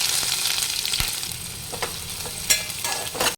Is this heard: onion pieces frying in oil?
yes